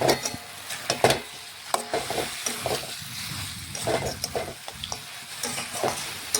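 A spatula stirs mutton and fried potatoes in a pan, giving repeated scrapes and clacks against the metal over a steady sizzle, close and moderately loud, with no talking.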